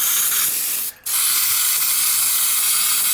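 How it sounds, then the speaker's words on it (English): A steady loud hiss of carburetor cleaner sprayed into a Lawn Boy 4651 lawn mower carburetor, broken by one short pause before the long blast resumes. "So I'm using a load of carb spray."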